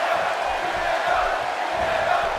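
A steady roar of a large arena crowd cheers in the WWE 2K18 wrestling video game during a match, a dense continuous wash of noise with no break.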